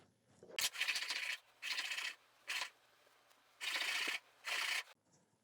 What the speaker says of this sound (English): Quick little dredge on here.